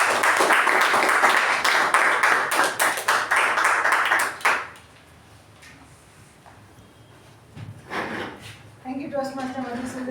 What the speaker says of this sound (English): So with a huge round of applause, please welcome our general evaluator for today